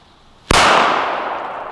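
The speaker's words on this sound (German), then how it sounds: "das waren bisher wirklich die lautesten D-Böller, die ich so generell gehört habe." A Dynamite D-Böller firecracker goes off with a single sharp, very loud bang, followed by a long ringing echo that slowly fades away.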